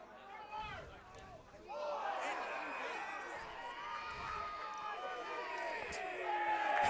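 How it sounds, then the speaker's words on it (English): A crowd cheers and roars at a senior division one Australian football match between Pakenham and Seville, the noise swelling and building steadily over a few seconds, with shouts and whoops rising above the babble. "Crowd certainly getting into it with the game ramping up"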